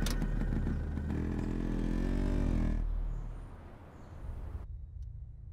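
Motorcycle engine running loud and close with a steady low rumble and a rising, revving tone, then dropping away to a quieter rumble that fades toward the end.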